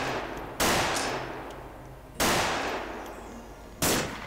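Three loud, sharp rifle shots from an AK in the video game Unreal, evenly spaced about a second and a half apart, each with a long decaying tail and no talk over them.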